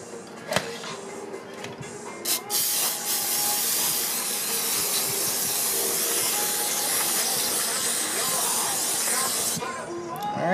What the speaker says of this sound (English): Let's give her a little spray down first.